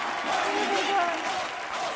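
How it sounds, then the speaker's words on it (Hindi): Applause for a comedy stage act on a television entertainment show, a steady wash of clapping from a studio audience that holds at an even level for two seconds. "जोरदार तालियां"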